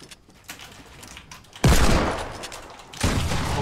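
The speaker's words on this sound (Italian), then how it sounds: "Ci stanno sparando tra di loro." Fortnite gunfire: after quiet scattered pops, a sudden loud burst of rapid shots erupts, eases briefly, then a second heavy volley follows, close and dense.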